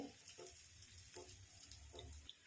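Chopped onions sizzle faintly in oil around a dosa frying on a hot pan for a healthy breakfast, a quiet, steady crackle with small pops throughout.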